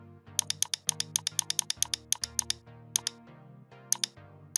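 Keys on a computer keyboard are typed in a quick, uneven burst of about two dozen crisp, close clicks, with short pauses between groups and no voices.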